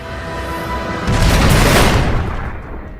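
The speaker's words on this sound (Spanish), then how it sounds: "cómo se pueden producir estas explosiones en una supernova de tipo 1A" A deep, rumbling boom swells into a roaring blast that washes over everything, then slowly fades out, like a cinematic explosion effect.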